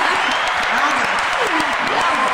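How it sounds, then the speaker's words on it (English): A small group at a podcast recording applauds in a steady, close patter of clapping, with voices talking over it throughout. "Applause."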